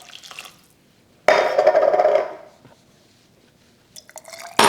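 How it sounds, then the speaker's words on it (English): Boiling water is poured into glass jars to rinse out leftover curry paste, a splashing, gurgling burst of liquid lasting about a second, then quiet with small clinks and a final splash. "Then I'll just use some boiling water to get whatever's left in the bottom of the jars for extra flavour."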